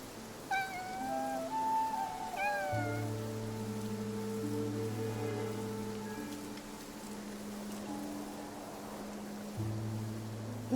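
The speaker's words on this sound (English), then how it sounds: "that cat that just passed by stopped making any sound" A cat meows twice in quick succession in the video game Infinity Nikki, soft rising cries over light rain and steady sustained music tones.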